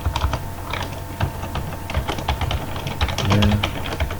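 Typing on a computer keyboard while entering a form title, a close, quick patter of uneven key taps with a low steady hum beneath, continuing for several seconds without speech.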